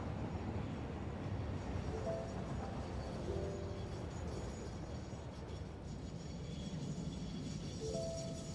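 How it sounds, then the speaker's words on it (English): A train full of oil arriving in the factory game Satisfactory, a steady low rumble and rolling clatter with faint whines and squeals, constant and fairly quiet throughout with no voices. "Here comes the other train, completely full of oil."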